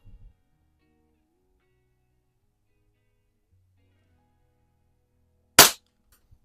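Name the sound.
air pistol being fired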